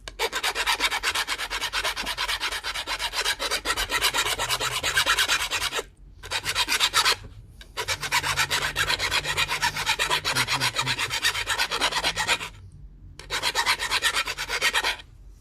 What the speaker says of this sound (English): we could go ahead and sharpen it already early